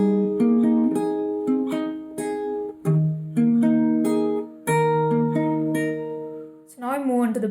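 Slow fingerpicked acoustic guitar playing the chord progression of a song, with distinct plucked notes and brief gaps between chord changes, close and clean, ending on a sliding note.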